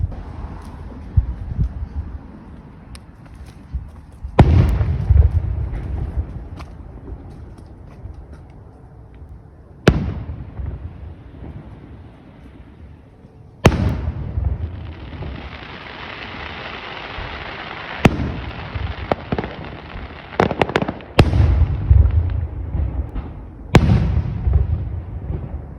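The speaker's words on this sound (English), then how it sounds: "You watching the fireworks?" Canada Day fireworks exploding outside a backyard: a string of loud, sharp booms spaced several seconds apart, each followed by crackling, sizzling tails and a long hissing stretch midway, with dogs nearby.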